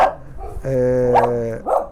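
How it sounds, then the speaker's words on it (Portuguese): A small dog gives a short whine and then a single drawn-out, high-pitched bark close by indoors, followed by a brief yip. "Aí de vez em quando ele decide dar uma latidinha"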